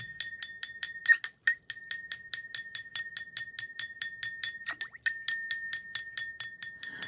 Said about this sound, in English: And I'll keep tapping while doing that, and you'll hear the way the sound of the glass changes.